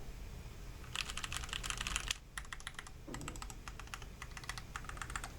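Rapid bursts of clacky typing on a Keychron Q6 mechanical keyboard, crisp key strikes in quick runs with brief pauses between, close and fairly quiet.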